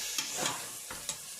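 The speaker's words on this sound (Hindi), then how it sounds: "इलायची, दालचीनी और ये कीमा डालूंगी।" Minced keema goes into a hot pan with whole cardamom and cinnamon, making a short burst of sizzling with a few quick stirring scrapes, close and fairly loud.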